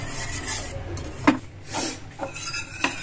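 A spoon stirring a thick mixture in a kitchen pan, with intermittent scraping strokes and light metallic clinks against the pan, close-up, with no talking.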